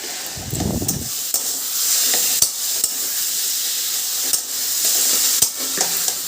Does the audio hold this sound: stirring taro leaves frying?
yes